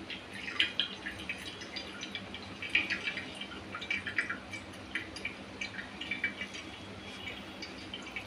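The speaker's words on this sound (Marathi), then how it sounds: "सगळं दह्यातलं पाणी हे पूर्णपणे निथळलं पाहिजे." Steady, light patter of water dripping from yogurt draining in a cloth, a quick irregular stream of small drops, close and fairly quiet, without any talking.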